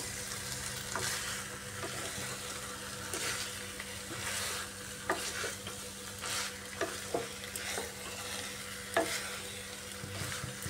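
Pointed gourd stir-fried with sugar and slit green chillies crackles in a pan, with a steady broad sizzle and scattered sharp spatula scrapes and clicks, fairly close and moderately loud, no voices.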